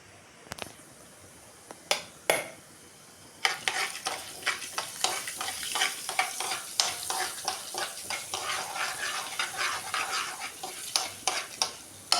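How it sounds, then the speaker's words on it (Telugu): Tempering spices and curry leaves crackle and sizzle in hot oil for a chutney, with sharp pops and repeated spoon scrapes against the pan, close and fairly quiet. "ఇప్పుడైతే తాలింపు అయితే పెడుతున్నాను"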